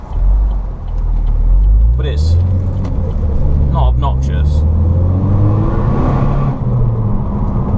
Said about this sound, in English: You're getting really nice turbo noises and a really nice exhaust note